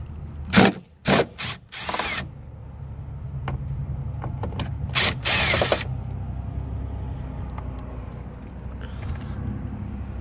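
Phillips screws being backed out of an interior door panel on a Ford SuperCab truck, giving a few loud close clicks and scrapes at the start, then a low steady hum with scattered faint ticks.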